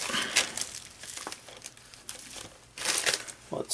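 Plastic bag around a Pearl hammer being cut and opened during an unboxing, several close, bright crinkling bursts, the loudest near the end, with quiet pauses between them.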